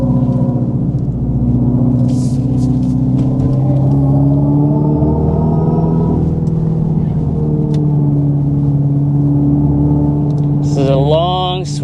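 A 2025 Dodge Charger Daytona Scat Pack, an electric car rated at 670 hp and weighing about 5,800 pounds, pulls hard on a track with a loud, steady synthetic drone and rumble that rises slightly in pitch, with brief squeals near the end.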